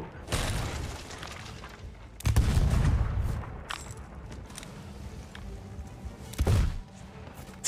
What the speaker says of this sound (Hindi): मैं तो शॉटगन से मार रहा हूं